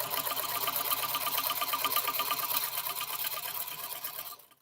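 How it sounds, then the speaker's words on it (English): Sewing machine stitching quilt pieces for a mystery quilt, running at a steady fast whir with a rapid even needle rhythm, close and continuous before stopping at the end, with no talk. "You just have to grab a piece, sew it on."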